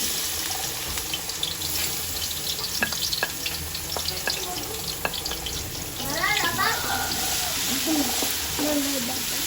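Garlic frying in oil for spaghetti sauce, a soft hiss under clinks and stirring scrapes, with brief running water and a voice talking faintly in the background.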